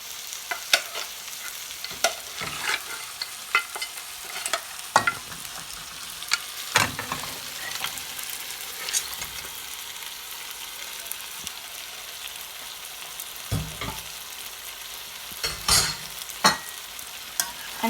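Pressure-cooked mutton for a black pepper roast sizzles quietly in a pan, with a soft frying hiss under sharp, scattered clinks and scrapes of a spoon stirring the meat.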